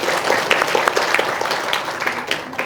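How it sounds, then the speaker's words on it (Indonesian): Audience applause at an Islamic Quran study gathering, a steady wash of many hands clapping throughout, dense and sustained with no talk over it. "sekali lagi tepuk tangan buat kalian semua"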